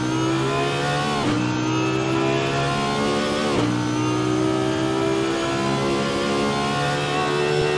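An Audi R8 LMS GT3 race car in a racing game holds a loud, steady engine drone from the cockpit, dropping pitch with two quick gear shifts, and there's no talking.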